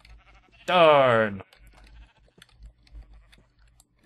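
A Minecraft sheep gives one loud, wavering bleat lasting under a second, followed by quiet clicks and game noises, with a man's brief exclamation afterward.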